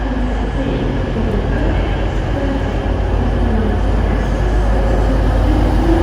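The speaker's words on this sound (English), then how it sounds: "this is the Hull train coming in" A six-car passenger train heading to Hull rolls into a station with a steady low rumble and hum of engines and wheels, continuous and fairly loud.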